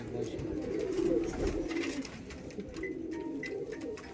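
Madrasi pigeons kept for sale at a home loft coo in soft, overlapping rolling calls, fairly close over a dull background.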